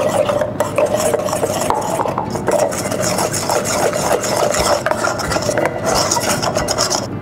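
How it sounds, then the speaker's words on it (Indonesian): Continuous raspy scraping of a utensil stirring cake batter with vanilla extract and flour in a bowl for a kiwi tart, steady and close with no talking. "Kita aduk lagi sampai rata."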